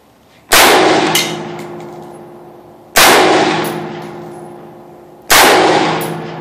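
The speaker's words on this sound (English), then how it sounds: "And now we're ready to shoot." An AR-15 rifle clamped in a testing fixture fires three loud, sharp shots about two to three seconds apart, each a hard crack followed by a ringing, fading tail.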